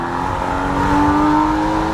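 A sports car engine revs steadily for two seconds, a loud, sustained tone that swells slightly in the middle, heard alone without voices.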